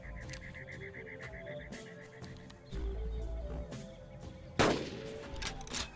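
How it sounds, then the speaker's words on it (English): A single loud, sharp rifle shot rings out near the end in the dinosaur-hunting game Carnivores, taking down a Pachycephalosaurus among hills, after a stretch of quiet outdoor ambience. "One throat shot drops the Pachy, and I hope the noise was enough to scare away however many raptors were out there"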